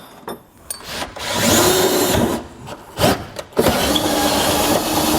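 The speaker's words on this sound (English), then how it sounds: "take my larger drill bit, since this is large enough, clear that out" A power drill whines in short bursts, pausing and restarting several times, with a grinding buzz as the bit drills through metal close by during a fifth wheel hitch installation on a 2022 Ford F-350 Super Duty.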